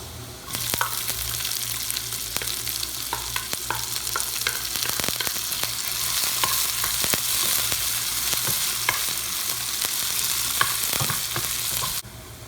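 Garlic and onion sautéing in a pan for sardines with bitter gourd leaves, a close, continuous crackling sizzle with repeated stirring scrapes and light taps, stopping abruptly near the end.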